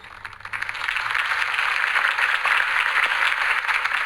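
A crowd claps after a campaign speech in the video game Batman: The Telltale Series, the applause swelling quickly into a dense, sustained patter that holds steady to the end, with no talk over it.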